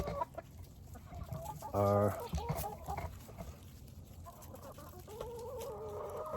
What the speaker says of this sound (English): these chickens here, and they come running